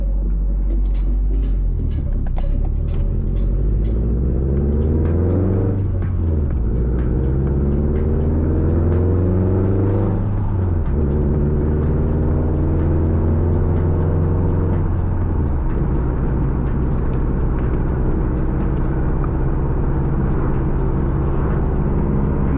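A 350 hp Subaru WRX with a Tomei titanium exhaust warming up, giving a loud, steady low engine drone and rumble that shifts pitch a few times as revs rise and fall, close by and continuous with no speech.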